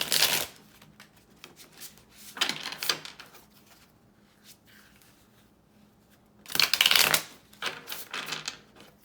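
A tarot card deck being shuffled by hand, with three or four brisk riffling bursts separated by quieter pauses, close and clear with no talking.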